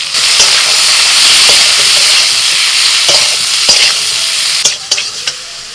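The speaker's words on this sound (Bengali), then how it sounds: "লবণ হলুদ গুঁড়ো আর একটু নাড়াচাড়া করে ভেজে নিয়ে দিয়ে দিচ্ছি অল্প একটু জিরের গুঁড়ো" Salt, turmeric and spices stir-fry in a hot pan with a loud, close, continuous sizzle, punctuated by sharp scraping clicks of a spatula against the metal and growing choppier toward the end.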